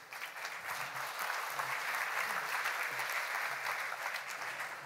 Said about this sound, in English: the audience will applaud you in because they love you already.